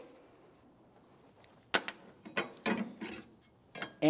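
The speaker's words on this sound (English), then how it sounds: "Now we can remove our hinge bolt" Ratchet clicks and metallic scraping while a hood hinge bolt is removed from a 2000-2006 Chevrolet Tahoe, arriving in short bursts after a quiet start, close and moderately loud, with no talking.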